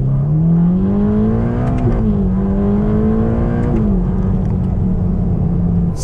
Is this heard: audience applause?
no